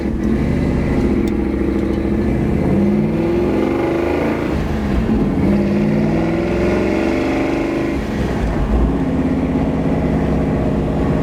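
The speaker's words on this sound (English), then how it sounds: "You want to feel the motor run." A deep, rumbling big-block V8 in a 1967 Mustang GT390 Fastback runs steadily up close, its low throb rising and falling with light throttle blips throughout.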